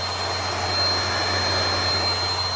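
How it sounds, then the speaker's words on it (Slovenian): A car cabin heater fan blows steadily on a cold Swedish winter drive, a constant close whooshing hum with a low drone and a thin high whine, unchanging throughout, with no talking. "To je pa grelc za kabino, ki lepo jo se greje."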